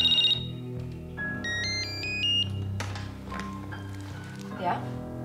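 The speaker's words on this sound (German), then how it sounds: "klingelte das Telefon" A telephone rings in a room in a German crime drama, its electronic ringing tones standing out over background music and a dialogue scene.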